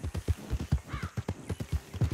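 Horse hooves clopping at a steady riding pace in the video game Red Dead Redemption II, a regular close rhythm of thuds with a brief whinny-like tone midway.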